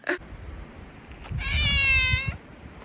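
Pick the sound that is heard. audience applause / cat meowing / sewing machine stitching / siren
cat meowing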